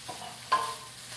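Carrot rice being stirred in a pan, a short soft scrape and shuffle of grains against the pan with a faint sizzle underneath, close and quiet, no voices.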